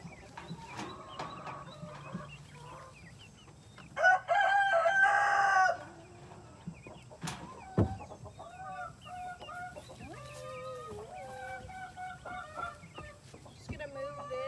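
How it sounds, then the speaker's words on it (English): Chickens on a Texas farm cluck and crow around a new chicken tractor, with a loud burst of crowing midway and busy clucking and chirping calls throughout. "Ariel, new chicken tractor. I'm gonna open the door for the babies"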